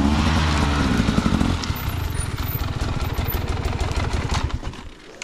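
A Stark Varg electric dirt bike strains under throttle at Silichi, a loud droning motor note that breaks into a rough, pulsing churn as it fights for grip, fading at the end.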